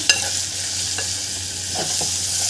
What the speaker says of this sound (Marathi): आणि टमाटर हे सगळं घालून घ्यायचं आहे याला छान परतून घ्यायचं आहे आपल्याला